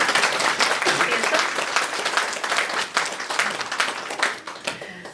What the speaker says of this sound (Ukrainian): Оплески, будь ласка, нашим